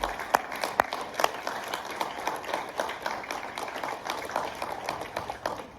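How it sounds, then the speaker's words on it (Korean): A congregation at an Easter thanksgiving church service for a high school claps together, producing a steady, moderately loud patter of many hands with a few sharper nearby claps throughout. "우리 서로 한번 우리 주님 앞에 박수 한번 하십시다."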